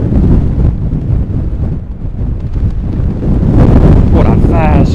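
Strong gusting wind buffets the microphone on a golf course during a windstorm, a loud continuous low roar, with a voice speaking briefly near the end.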